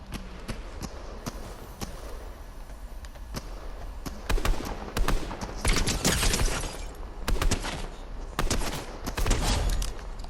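Video game gunfire crackles in rapid bursts and scattered single shots, loud and close, intensifying in clustered volleys with no talking.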